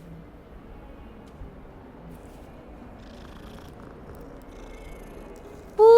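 A cat purrs steadily in the Hogwarts Legacy video game, a low continuous rumble close by, ending in a sudden loud burst at the very end.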